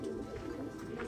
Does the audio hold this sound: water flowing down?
no